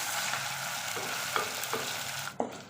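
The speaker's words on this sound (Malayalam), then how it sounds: "ഇപ്പോൾ ഇതാ നമ്മളെ ഇഞ്ചി വെളുത്തുള്ളി പേസ്റ്റ്, ചെറിയ ഉള്ളി, പച്ചമുളകൊക്കെ നല്ലപോലെ മൂത്ത് വന്നിട്ടുണ്ട്" Ginger garlic paste, shallots and green chillies frying in a pan for a Kerala sardine curry, a loud dense sizzle throughout with a few spatula scrapes, cutting off abruptly at the end.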